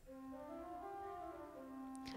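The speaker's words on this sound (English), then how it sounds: "And the 8 foot principal sounds like this." A pipe organ's 8-foot principal stop sounds a few sustained, clear notes that step up and down in a short line, steady and moderately soft, ending with a faint click.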